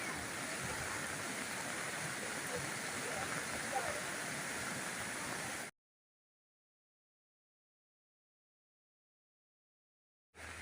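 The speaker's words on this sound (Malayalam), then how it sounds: "ഇടവാവലി നിറഞ്ഞു പോകുന്ന രംഗമാണ് കാണുന്നത് രണ്ടാമത്തെ ഇടവാവലിയിലെ വെള്ളം പൊങ്ങിയിരിക്കുകയാണ്" The flooded Bavali river rushes and overflows its banks in a dense, loud roar of water that runs for several seconds, then cuts off abruptly.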